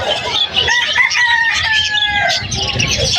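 A rooster and hens at a bird seller's, loud and close, with crowing calls rising over steady clucking and chirps throughout.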